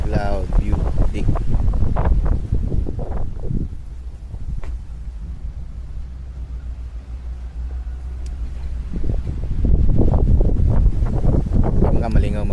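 Strong wind buffets and rumbles against the microphone while riding a stock Yamaha Aerox v3 scooter in Alamada, Maguindanao, with people talking loudly at the start and end and a steady low engine drone beneath.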